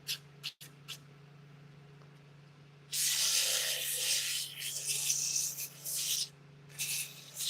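Wood being sanded on a lathe, a soft rasping rub that starts after a few quiet seconds with a steady low hum, then continues in sustained passes with brief pauses.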